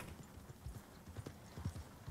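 A horse's hooves clip-clop in Red Dead Redemption 2, a quick uneven run of close, soft thuds at a walking pace over a faint background hiss.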